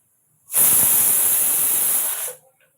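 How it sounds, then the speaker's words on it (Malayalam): A loud, steady hiss of steam bursts out for about two seconds, like a pressure cooker venting on a stove, then cuts off abruptly. "ഞാൻ കിച്ചണിലാണ് കേട്ടോ അതാണ് ചെറിയ ഒച്ച ഒക്കെ കേൾക്കുന്നത് കുക്കർ അടുപ്പത്ത് വെച്ചിട്ടുണ്ട്"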